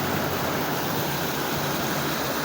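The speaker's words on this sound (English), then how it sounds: "There's running water." Floodwater rushing under a bridge after heavy rain, a loud continuous broadband roar with no breaks and no voices.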